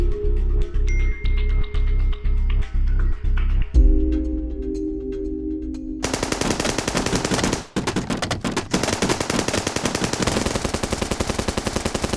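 Reenacted gunfight from the Oplan Exodus raid: a regular string of heavy shots, a pause, then dense, continuous machine-gun fire with rapid overlapping bursts, loud and close throughout.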